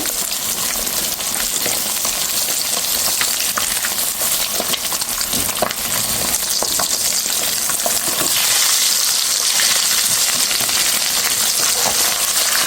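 Pieces of catla fish fry in hot oil in a loud, steady, crackling sizzle that runs without pause, close to the microphone.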